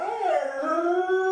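A dog gives a long, wavering howl that rises and then settles, loud and close, with no barking or talking.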